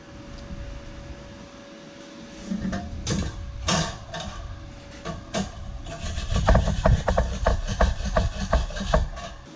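A small supplied wire brush scrubbing over fresh MIG welds on steel, a steady gritty rasping in uneven strokes that grows louder and busier toward the end, heard alone with no voices.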